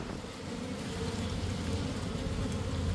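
Bees swarm and buzz around an open propane box during a colony removal, a steady, fairly loud droning hum that holds for the whole stretch with no voices.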